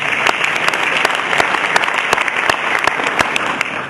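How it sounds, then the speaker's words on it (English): An audience applauds at a Kush Magazine event on the future of medical marijuana, with steady, dense clapping and a few sharper claps standing out, close and loud throughout. "I want to actually give a round of applause to you for being here tonight"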